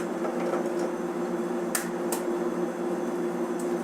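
Eggs cracked one by one on a flat grill give a few brief, sharp cracks over a steady mechanical hum of kitchen equipment, with no talking.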